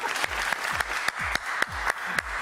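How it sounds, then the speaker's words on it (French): Studio audience applause on a French television talent show, a steady broadband wash of clapping with regular sharp low thumps recurring about every quarter second underneath, fairly loud and continuous. "Ah bon, on peut l'applaudir, hein"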